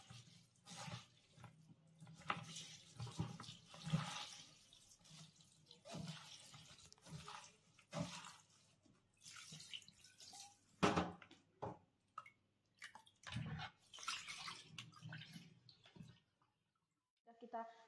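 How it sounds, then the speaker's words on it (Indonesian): Seaweed is rinsed and soaked in boiled drinking water while being prepared for a vegan pudding, with splashing and running water heard intermittently beneath steady talking. "Kita rendam, kemudian kita cuci kembali dengan air masak."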